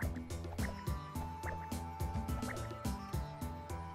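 Water dripping in the platformer Arkedo Series 03 Pixel, repeated drip and splash tones falling in a steady rhythm over busy game music, fairly loud and close with no talking.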